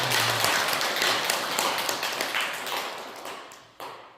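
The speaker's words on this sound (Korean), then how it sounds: "큰 박수 부탁드립니다" An audience applauds after a lecture at a Korean religious training session, a dense wash of clapping that slowly fades and then ends in a few scattered final claps.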